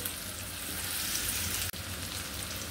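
Onions fry in a pan with a quiet, steady sizzle and crackle that carries on evenly without pause.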